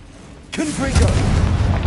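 A booming explosive blast from the Confringo spell in a Harry Potter video game erupts suddenly after a quiet moment and rumbles on, with a voice heard over it.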